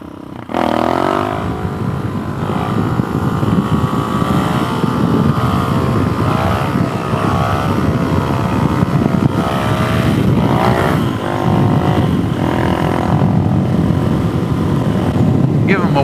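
A motorcycle rides steadily on a spring road, its engine droning loud and close with wind buffeting throughout, the revs shifting slightly as the rider sets up a wheelie.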